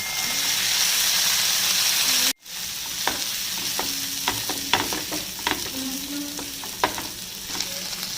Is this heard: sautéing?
yes